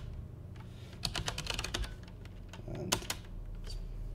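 Close-up computer keyboard typing a snap install terminal command on a Pop OS machine: irregular bursts of crisp clicking keystrokes, densest around the middle and again near the end, over a quiet room hum.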